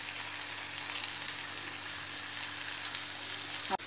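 Chicken with yogurt sautés in a pan with a steady, close frying sizzle and crackle throughout, followed by a brief clatter at the very end.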